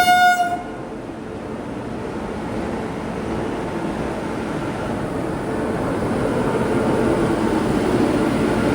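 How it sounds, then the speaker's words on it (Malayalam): A Shatabdi express train passes close by with a loud, steady rumble of wheels on rails that fills the whole stretch, with a short horn-like tone at the very start and no talking. "നമ്മൾ പോകുന്ന അതേ റൂട്ടിലേക്ക് ഇതാ മറ്റൊരു ട്രെയിൻ പോവുകയാണ്."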